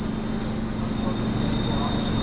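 Wheels of a panoramic train to Interlaken squeal with a sustained high metallic whine over a steady low rumble of rolling rail cars at a Swiss station platform.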